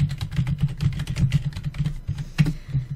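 Rapid typing on a computer keyboard during a Sims 3 game session, with dense, uneven clicks and clacks that continue steadily throughout, close and clear, with no talking.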